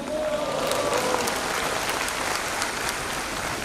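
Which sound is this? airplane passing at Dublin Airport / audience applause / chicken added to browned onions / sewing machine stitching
audience applause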